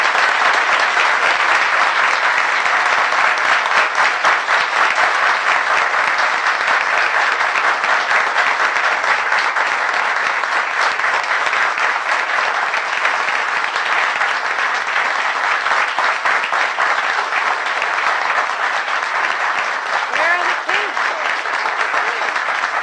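Board members and audience at a school board of education meeting applaud students and staff, a long, even wash of loud, dense clapping that holds steady throughout.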